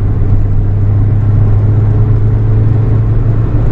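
A 1.9 TDI turbo diesel car engine drones loudly and steadily under full load, a constant low rumble with a whirring turbo hum that holds without letting up.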